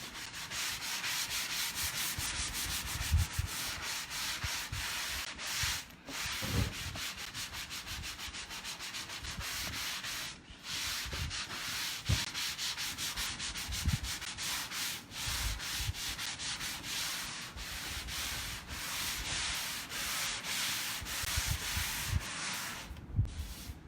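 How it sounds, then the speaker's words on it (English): A sanding block rubs back and forth across a wooden board in steady, scratchy strokes, close up and continuous with brief pauses. "I'm going to go ahead and use my sanding block over it and just sand right over it"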